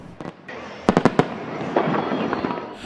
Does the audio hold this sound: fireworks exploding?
yes